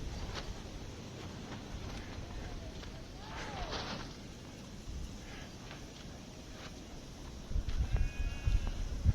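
Goats bleating on a snowy February farm as they crowd toward their hut at feeding time, calls rising here and there over steady wind and rustling, with a louder thumping burst near the end.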